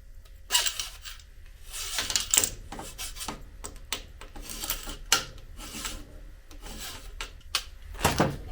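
A metal hand file deburrs the end of an air compressor intercooler tube in short, uneven rasping strokes, fairly quiet and close, with small knocks and handling noises between strokes.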